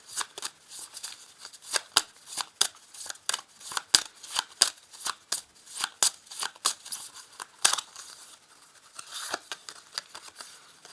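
Tarot cards riffled and slapped down one after another in a quick, uneven run of crisp papery snaps and flicks, close and fairly loud, with no talk.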